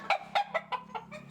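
Imported fighting roosters clucking nearby, a quick series of about six short, loud clucks in an uneven rhythm over a low steady hum.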